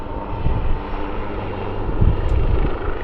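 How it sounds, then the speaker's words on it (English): A Gökbey helicopter flies at the Farnborough International Air Show 2024, giving a loud, steady rumbling engine and rotor drone with broadband roar that swells slightly midway, heard alone without speech. "going backwards at 40 knots in a helicopter must be quite exciting"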